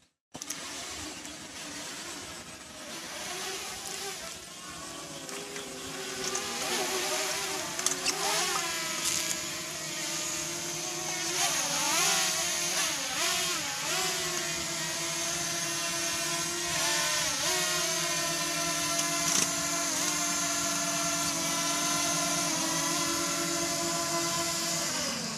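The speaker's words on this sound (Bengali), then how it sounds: "ড্রোনটা ল্যান্ডিং করে ফেলবো।" A camera drone flies in to land over green countryside, its steady rotor whine holding close and continuous, with pitch rising and dipping as it manoeuvres and no talking.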